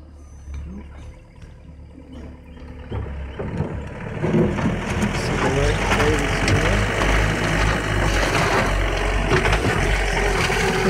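Truck engine at a construction site for an ICF house, rumbling louder as it works to move gravel, with a steady low drone and clanking that builds after a few seconds of quieter idling.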